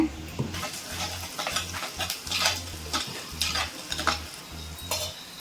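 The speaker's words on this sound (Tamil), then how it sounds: "இப்போ நம்ம அரைச்சி வச்ச மசாலாவை இதில் சேர்த்துக்கலாம்" Ground masala paste of roasted spices added to a hot pan and fried, with repeated spoon strokes scraping and stirring over a continuous sizzle, close, with a few clinks of utensil on metal.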